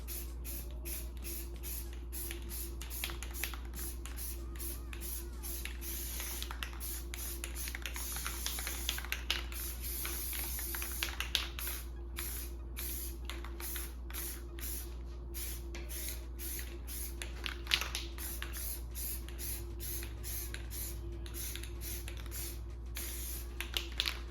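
Aerosol spray paint hissing in short, light dusting bursts onto a rifle, a steady run of quiet puffs with clicks of handling throughout, no talking.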